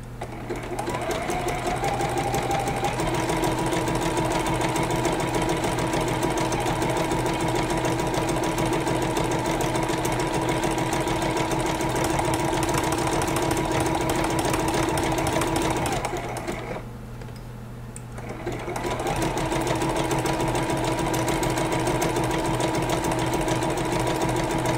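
A sewing machine stitches a teddy bear applique onto a baby quilt. It is a loud, steady, rapid mechanical whir that runs continuously, stops briefly for a pivot near the end, then starts up again.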